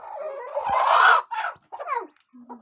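A hen that has just hatched a brood of chicks clucks in a few short, separate bursts, close and moderately loud, with a brief pause before a final low call.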